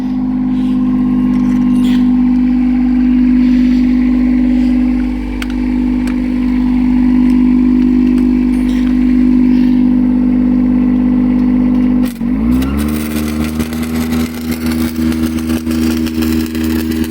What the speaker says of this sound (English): Back down to auto idle, with the welding plant turned off